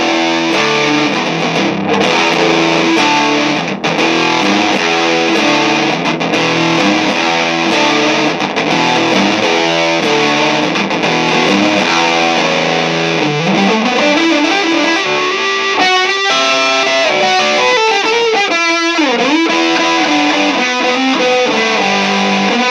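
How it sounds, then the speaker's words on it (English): Electric guitar played through Pro Co Rat distortion pedals with the distortion turned all the way up, giving a loud, dense, saturated stream of chords and riffs that never lets up. "Let's just go all the way with the distortion on both of these and let's just see what that sounds like."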